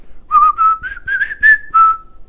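A person whistles an imitation of the Old Spice jingle: a short, clear melodic phrase of several bright notes, loud and close, ending on a held tone.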